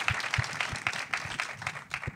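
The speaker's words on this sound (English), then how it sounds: "And we do want to applaud Pedro for that" An audience at a film Q&A applauds, giving a steady, dense patter of many hands clapping at moderate volume for a couple of seconds without a break.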